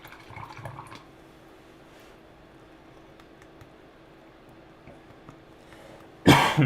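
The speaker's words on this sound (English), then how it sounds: "I should cough the other direction" A single loud, abrupt cough bursts out near the end after a long stretch of quiet room noise with faint clinks.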